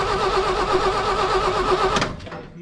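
A toy dump truck's small engine turns over and runs with a steady, buzzing drone for about two seconds, then cuts out abruptly, leaving a brief fading tail.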